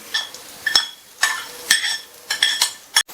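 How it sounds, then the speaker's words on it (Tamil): A spoon clinks against a pot or bowl in a few quick, close strokes while tempering is stirred into a radish pachadi. "தாளிப்பு சேர்த்துட்டு நல்லா ஒரு தடவை மிக்ஸ் பண்ணி விட்டுறலாம்."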